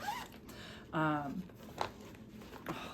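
A clothing zipper pulled in one quick, close rasping stroke, followed by a few soft rustles and taps in a quiet indoor room.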